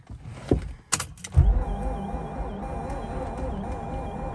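A Mazda RX-8 rotary engine that cranks but won't start, with oil added to the spark plug holes, turns over. A few sharp clicks come first, then a steady, wavering starter whir runs close and loud without catching.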